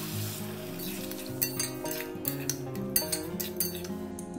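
Potol and paneer frying in a pan as water is added, bringing a bright steady sizzle along with close metallic clinks and scrapes of a spoon stirring against the pan.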